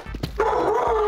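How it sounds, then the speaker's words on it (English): A dog in the video game Minecraft gives a few quick barks and a drawn-out whine, close and loud. "Is that a small dog?"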